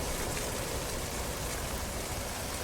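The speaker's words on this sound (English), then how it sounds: "I think this place is prettiest when you get a nice drizzle." A light drizzle falls in a VR space exploration game, a soft, even hiss of rain without breaks, faint and steady, with no voices.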